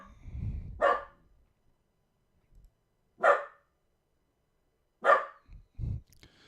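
Sharp single barks from a dog inside a home ring out at spaced intervals, three clear loud woofs separated by pauses of a couple of seconds, with faint low sounds between.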